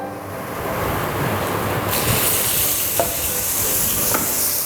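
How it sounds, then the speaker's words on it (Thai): Field rat meat stir-fries in a pan over moderate heat, a steady close sizzle with soft scraping stirs and a couple of sharp clinks against the pan, no talking. "ลงไปผัดเลย เราไม่ต้องใช้ไฟแรงมากนะครับผม"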